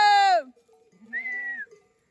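Sheep and lambs of a flock bleat on a farm: one loud, close, quavering bleat, then after a short gap a thinner, higher and fainter second bleat, with no talk.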